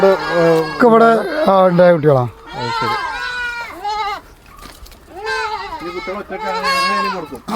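Several Malabari goats on a farm in Ramapuram, Malappuram, bleat in quavering, overlapping cries, close by and loud, with brief pauses between calls.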